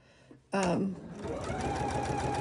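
A sewing machine stitches a quarter-inch seam on a holiday cuff project, its steady mechanical whir starting abruptly after a brief faint sound and running loud and continuous to the end.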